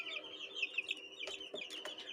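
Shamo chickens, including a golden Shamo, cluck and call repeatedly at close range, with short sharp bursts over a steady background of bird chatter and no talking.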